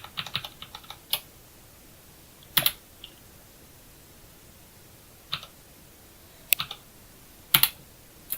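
Computer keyboard keys pressed in scattered bursts for WordPress keyboard shortcuts: a quick cluster of taps, then isolated clicks and short pairs spaced seconds apart, close and crisp over a quiet room.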